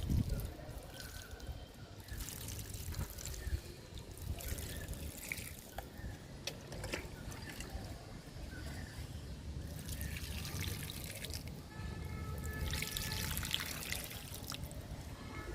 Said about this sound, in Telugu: ఆగ్లోడిమా మొక్కలకి వాటర్ పోస్తున్నాను